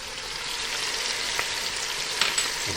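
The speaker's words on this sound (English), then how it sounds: "Now we gotta caramelize really good the garlic and the onion." Onion, garlic and hot pepper flakes fry in a pan with a steady, dense sizzle, close and even throughout with a couple of small crackles near the end.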